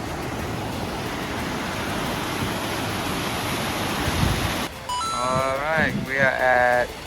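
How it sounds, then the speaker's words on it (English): Vernal Falls on the Mist Trail in Yosemite roars as a steady, loud, broadband rush of falling water, joined near the end by a person talking over it. "we are at Vernal Falls, the last waterfall before we finish the mist trails"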